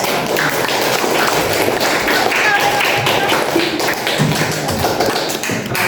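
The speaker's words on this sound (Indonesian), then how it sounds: "Tepuk tangan untuk kita." A class applauds at the end of a lesson, with dense, steady clapping and tapping filling the room for several seconds. It sounds close and loud, with a faint murmur of voices underneath.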